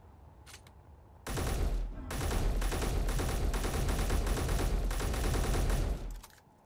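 Sustained rapid automatic gunfire in Space Engineers, loud and close, rattling for several seconds in a steady burst aimed at the player.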